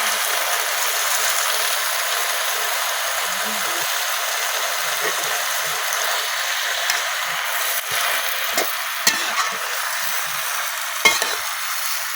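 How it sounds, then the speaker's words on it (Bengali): Potatoes frying with spices in oil in a pan, a steady close hiss of sizzling that runs throughout, with a few soft clicks of stirring toward the end and no speech. "মশলার সাথে কিন্তু আমি আলুটা খুব ভালোভাবে কষাই দিচ্ছি।"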